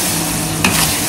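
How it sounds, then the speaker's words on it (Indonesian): Meat and shallots frying hard in hot oil give a short, loud burst of crackling sizzle and spatter, close by, with no talking. "Au, merecik."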